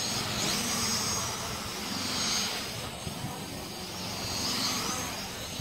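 Hubsan X4 H502e Desire GPS quadcopter drone in flight, a faint, thin whine whose pitch sweeps up and down as it moves, heard outdoors without talk.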